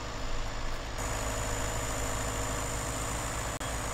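A Massey Ferguson tractor engine idles on a farm, a steady low diesel rumble at moderate distance with no talk over it.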